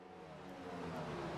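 NASCAR race cars in a racing video game, with a dense, steady engine roar that swells slightly over a short stretch, no voices.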